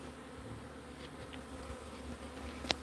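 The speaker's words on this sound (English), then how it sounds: "There's a lot more bees in there than I thought there was." A swarm of honey bees buzzing as a low, steady drone, moderately quiet and continuous, with a couple of sharp knocks near the end.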